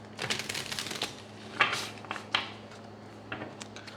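Crisp riffling and flapping of a tarot deck being shuffled close up, a few sharp snaps between softer rustles, no talking.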